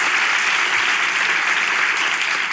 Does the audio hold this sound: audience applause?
yes